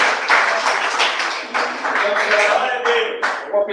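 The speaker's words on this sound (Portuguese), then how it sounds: "quem bate mais palmas" A church congregation applauds in a dense, continuous burst of clapping that fills the room loudly, with voices mixed in under the claps before it thins out near the end.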